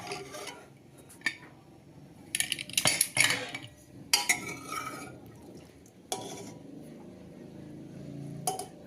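Metal utensils and pots clink and clatter in a home kitchen as a cooled pressure cooker is opened while cooking a drumstick curry, with scattered sharp knocks and scrapes between quieter pauses, close by.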